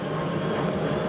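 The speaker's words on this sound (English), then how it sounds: "That's a plane going over." A propeller or jet airplane passes overhead, heard from inside a house as a loud, steady broadband roar that holds constant throughout.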